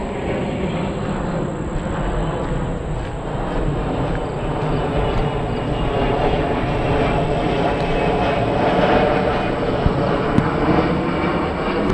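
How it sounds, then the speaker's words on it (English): An airplane drones overhead along a rural trail near Cliff Mine Road, a steady broad engine rumble that holds loud and continuous, with outdoor background noise. "There's an airplane."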